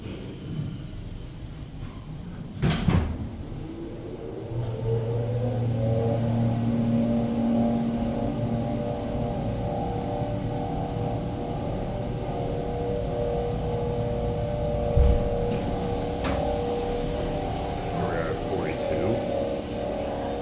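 Steady hum of a Schindler M Series hydraulic elevator carrying passengers, a sustained low drone with rising tones as the car moves, a couple of sharp clunks near the start and midway.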